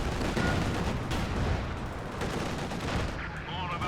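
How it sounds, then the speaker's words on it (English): Dense battle din from Company of Heroes 2 on the Road to Kharkov map, with many units firing on armor at once; continuous loud overlapping gunfire and explosions rumble throughout with no clear gaps. "Lots of forces opening fire on the armor."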